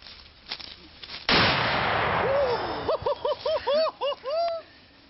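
A single loud, sharp blast from a .50 caliber Barrett rifle, followed by a long decaying rumble, then a string of short bright voiced yelps or exclamations.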